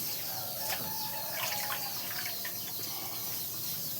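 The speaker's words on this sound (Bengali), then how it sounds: "আমার শাকটা ধোয়া হয়ে গেল, আমার হাতটা ধোয়া হয়েছে।" Water splashes and trickles steadily as leafy greens and hands are rinsed, with faint bird calls in the background and no talking.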